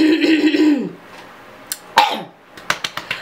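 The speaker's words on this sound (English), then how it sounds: "Let me clear my throat for a minute." A voice trails off, then a few short throat-clearing coughs and sharp clicks follow in quick, uneven succession, close up.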